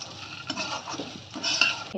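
A spoon scrapes and clinks through fasting-style cumin potatoes in a pan, seasoned with fasting salt and coriander. Close, brisk stirring runs for about two seconds with no talking.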